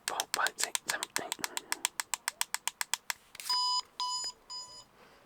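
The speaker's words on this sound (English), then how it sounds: "You'll hear it beep a couple of times" A rapid run of sharp clicks, then three longer electronic beeps from a handheld toy sonic screwdriver, close by.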